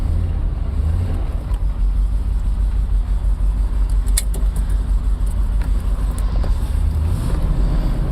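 A 1967 Corvette 400 hp Tri-Power V8 engine rumbles steadily from inside the car on a test drive, a constant low drone with road noise and no clear revving, loud and continuous throughout.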